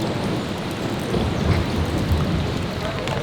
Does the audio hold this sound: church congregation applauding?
no